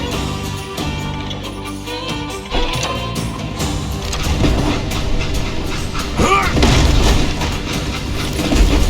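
A train rolls on rails in the Wild West shooter Call of Juarez: Gunslinger, a loud, continuous rumble with clattering and metallic screeches that swells partway through, mixed with game music.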